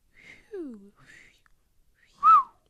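A few short, faint whistled notes and glides, ending in one louder, brighter whistle note, with quiet pauses between.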